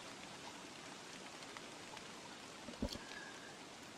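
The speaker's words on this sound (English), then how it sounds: "Oh, good, the rain's beginning to subside." Rain falls in the video game Don't Starve as a steady soft hiss of drops, with a brief sharper knock near the end.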